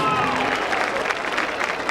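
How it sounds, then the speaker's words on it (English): A stadium crowd at a school spirit event applauds a high school marching band after its show, a broad, steady roar of clapping and cheering that holds for a couple of seconds, with a faint voice carrying through. "one more round of applause for Josh and the Harker Heights Red Brigade Band and their fantastic show"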